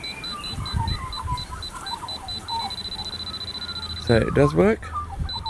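A cheap handheld gold metal detector pinpointer with an LED indicator gives rapid, evenly spaced high beeps that merge into a steady continuous tone, heard close under a voice.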